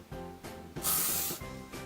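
Hairspray hisses from a spray can in a long continuous burst near the microphone while held on curled hair, between softer short bursts, over a faint steady background hum.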